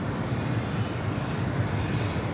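WestJet airliner at Los Angeles International Airport runway, a continuous broad engine roar holding steady throughout, moderately loud and alone without speech.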